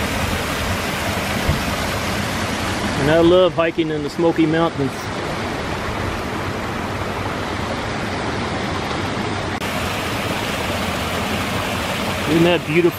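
Rain-swollen stream water rushes steadily through a park after a hard overnight downpour, making a close, continuous roar. Someone talks over it briefly, then the flowing water carries on alone.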